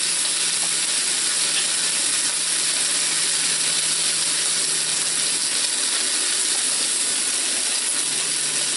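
Lamb fat renders in a hot pan with a little oil, giving off a steady, bright sizzling hiss that stays constant and close throughout, with no voices over it.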